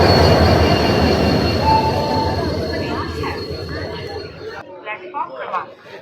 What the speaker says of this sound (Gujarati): મિત્રો જો ટ્રેન આવી ગઈ છે.